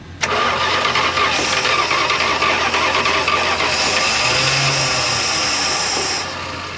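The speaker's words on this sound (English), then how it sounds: "Wait till the starter stops." The starter motor of an abandoned Dodge van cranks the engine in one loud, continuous grinding run, fading slightly at the end.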